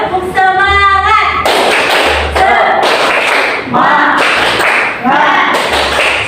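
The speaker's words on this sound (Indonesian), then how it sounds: "Tepuk semangat." A class stands and performs a rhythmic 'tepuk semangat' spirit clap, sharp patterned handclaps in time with group chanting and singing voices, repeated in short bursts with brief pauses between them.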